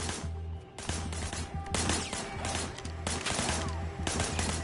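Gunfire in the Sleeping Dogs video game: rapid bursts of shots and crashing impacts over a constant low game soundtrack hum, dense and continuous through the moment.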